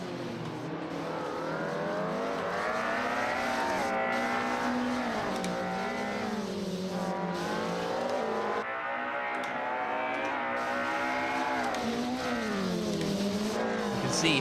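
Electric race cars launching off the start in the Race of Champions eROC final in Sweden, a loud close whine of motors rising and falling in pitch with several cars accelerating together, continuous throughout.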